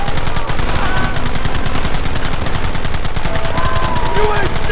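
Rapid, dense gunfire from Red Dead Redemption crackles continuously. Loud overlapping shots come in a steady barrage with no pauses.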